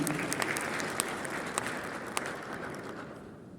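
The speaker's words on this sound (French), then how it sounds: "Sous vos applaudissements, s'il vous plaît." Audience applause at a conference panel at an insurance forum in Marrakech, Morocco, a steady wash of clapping from a sizeable crowd with a few sharper individual claps, fading slightly toward the end.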